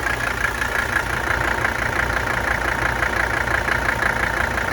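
A 1983 Mercedes-Benz 300SD with the OM617A diesel engine idles steadily, a continuous, even mechanical hum heard close up with no talking over it.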